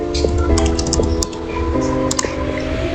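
Keystrokes on a computer keyboard as a networking command is typed into a switch interface, a steady run of close clicks over a constant background hum, with no talking.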